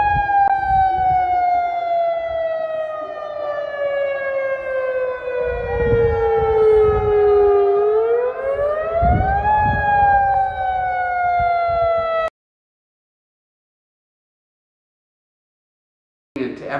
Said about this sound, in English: Tsunami warning. Evacuate.